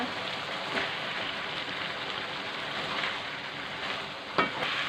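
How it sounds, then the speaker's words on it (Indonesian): Boiled noodles stir-fried in a hot pan with shrimp and green beans give a steady, loud, close sizzling hiss with stirring scrapes throughout, plus a sharper clatter near the end. "Setelah itu kita masukkan mie yang sudah kita rebus tadi"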